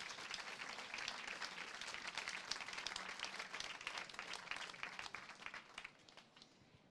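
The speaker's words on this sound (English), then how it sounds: "a warm applause for Lea Ypi" An audience at a book fair event welcomes author Lea Ypi with warm applause, a steady patter of many hands clapping at moderate distance that thins toward the end.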